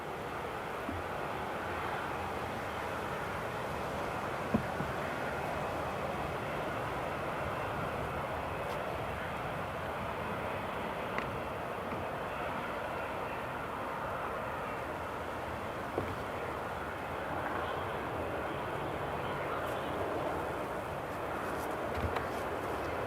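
A Ryanair airliner taxis at Newcastle International Airport, its jet engines giving a steady, distant, even roar that holds throughout with no talking.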